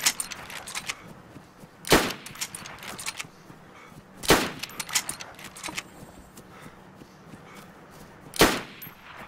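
Gunshots in DayZ: three sharp, loud single shots spaced a couple of seconds apart, each cracking out over a quiet background with faint rustling between them.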